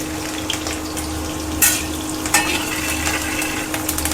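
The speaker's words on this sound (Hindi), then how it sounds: "ऑयल डालने के बाद कढ़ाई गर्म हो गई है। मैंने डाला इसमें मिर्च" Chilies fry in hot oil in a kadhai, giving a low, steady sizzle with a couple of brief clinks and stirring scrapes, close by and without talk.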